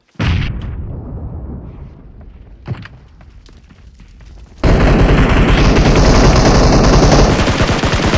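Grenade blasts and gunfire in a battle royale game, an opening burst of loud firing and booms that fades, then a sudden loud, sustained roar of explosion and rapid shots that holds to the end.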